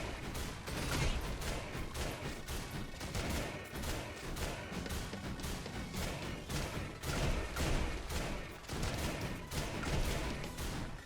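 Mortars firing in Risk of Rain Returns create a dense, rapid barrage of punchy blasts, repeating almost continuously at close range and loud throughout.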